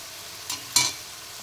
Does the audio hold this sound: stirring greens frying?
yes